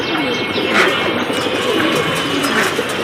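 Pigeons coo softly and repeatedly at a home loft, low murmuring calls running steadily throughout over a busy background hum.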